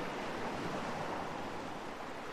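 A steady, close wash of surf in ArmA 3, with waves breaking on the shoreline as an unbroken roar mixed with wind noise from start to finish.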